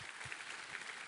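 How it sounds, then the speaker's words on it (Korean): Faint, steady applause from a church congregation during a Korean Sunday worship service, soft and diffuse, with no voices over it. "우리 하나님께 감사와 영광의 박수 올려드리겠습니다."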